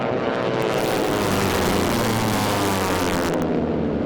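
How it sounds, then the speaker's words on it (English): A T-6 racing plane with a Pratt & Whitney radial engine and a 109-inch propeller roars past at an air race. It makes a loud, continuous droning growl with a crackling, rasping edge that holds steady throughout. "The crackling sound is that 109-inch propeller."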